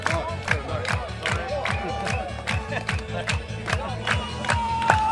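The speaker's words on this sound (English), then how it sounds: "Crowd's getting into it here as the Cougs get stood up. Yeah, it's getting loud." Lively crowd at a Kubb semi-final on the main court, a steady roar of cheering and shouting with rhythmic clapping and stamping, loud and sustained throughout.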